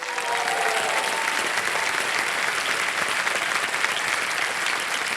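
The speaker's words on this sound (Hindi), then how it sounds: "समय समाप्त हो गया, ताली बज जाए" A television quiz show's studio audience applauds after time runs out on a question, a dense, steady burst of clapping that holds at full strength throughout, with a faint voice underneath at the start.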